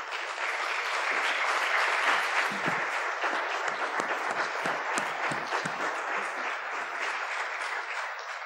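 An audience gives a sustained round of applause for the speakers at the close of a talk on politics, society and economy, a dense steady clapping that holds loud throughout and eases slightly toward the end.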